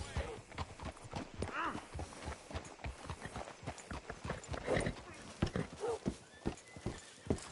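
Horse hooves clip-clopping in the Red Dead Redemption 2 video game, a close, rhythmic trot of sharp hoof strikes with an occasional whinny, while characters talk over the hoofbeats.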